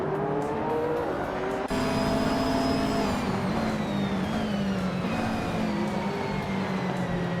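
Race car engines drone steadily through a racing video game, one loud engine tone shifting pitch as it accelerates alongside other cars, with a sharp gear-change break early on and no talking.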